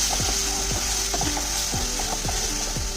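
Ground turmeric, cumin, coriander and chili powder sauté with a ground spice paste in a pan, giving a steady close sizzle broken by rhythmic scraping strokes of a stirring spatula.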